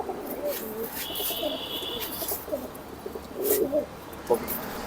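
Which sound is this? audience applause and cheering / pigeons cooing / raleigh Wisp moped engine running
pigeons cooing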